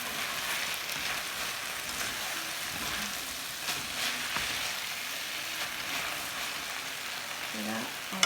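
Ramen noodles stir frying in sauce in a pan, a steady close crackling sizzle with occasional scrapes and stirring clinks, a few brief murmurs of voice underneath.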